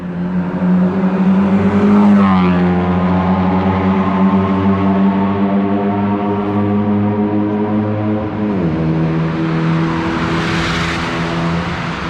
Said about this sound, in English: The Honda Jazz with the Accord engine.